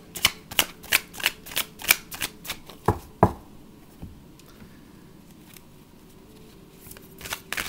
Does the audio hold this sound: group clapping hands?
no